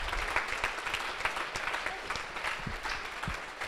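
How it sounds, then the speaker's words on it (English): An audience at a Startup Grind event claps steadily and warmly, dense applause filling the room without pause for a few seconds. "Give yourselves a round of applause."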